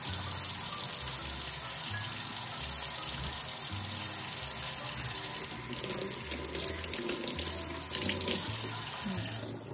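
Tap water runs continuously and loudly into a sink while slow juicer parts are rinsed, a steady close gush that does not let up.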